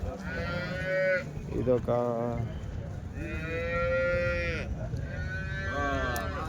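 Cows low in long, drawn-out moos at a Sunday cattle market in Chinthamani, with three loud, close calls rising over a steady hubbub and faint voices in between.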